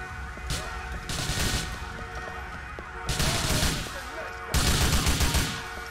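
Rapid automatic gunfire in the Grand Theft Auto IV: The Ballad of Gay Tony video game, loud repeated bursts separated by short pauses over a steady game soundtrack.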